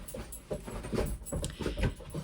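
Dogs bark and whimper in short, agitated bursts, fairly close, with restless panting between the yelps.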